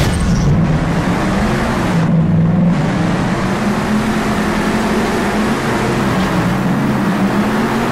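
Monster truck engines roar in a Monster Jam Steel Titans racing game, a loud, steady, dense drone of several revving motors that rises and dips slightly throughout, with no voices.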